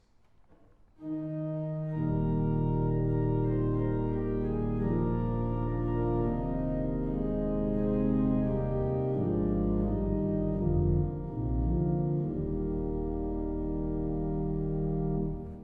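Sustained Viscount organ chords on soft 8-foot and 4-foot flute stops with a deep pedal flute bass, mellow, played alone and changing smoothly.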